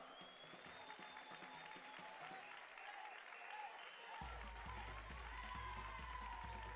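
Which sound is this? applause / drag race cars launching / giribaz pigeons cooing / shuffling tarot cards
applause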